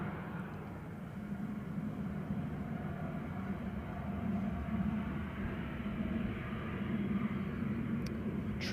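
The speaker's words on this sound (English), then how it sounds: "777 going over the top, BA from London Heathrow to Baltimore" A British Airways Boeing 777 flying from London Heathrow to Baltimore passes overhead near Manchester Airport, a steady, distant low roar that swells slightly and holds for several seconds.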